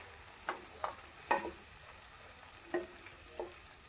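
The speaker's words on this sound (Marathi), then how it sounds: "हा मसाला तेलामध्ये अगदी छान परतून घ्या, म्हणजे आपली ग्रेव्ही खूप छान बनेल" Masala being sautéed in oil for a spicy potato curry gravy, a soft background sizzle under several brief spoon scrapes and taps spaced irregularly, close but fairly quiet.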